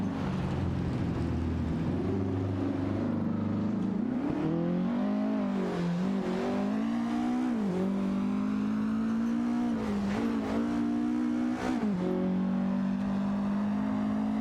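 Race car engines drone and rev in an AI racing video game, pitch rising and falling through shifts and corners, loud and continuous with no talk over it.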